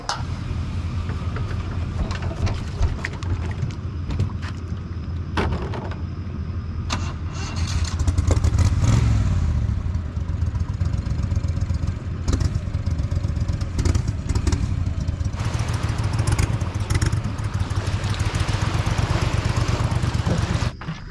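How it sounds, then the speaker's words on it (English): A loud mud boat engine runs continuously with a rough, clattering rumble, revving up and down at times, close by with no voices. "They're taking us out on their mud boat."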